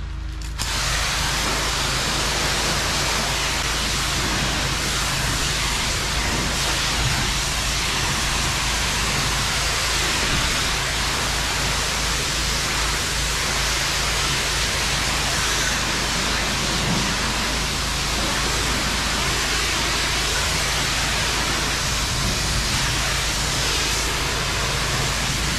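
A pressure washer sprays a steady rinse after blasting, a continuous loud broadband hiss with an underlying motor hum running unbroken and close throughout.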